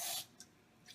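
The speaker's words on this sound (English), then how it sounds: "Now I'm going to spray the top with olive oil cooking spray" Short hiss of olive oil cooking spray onto potato-crusted chicken, one brief close burst at the start followed by two faint, quick puffs, with no talking.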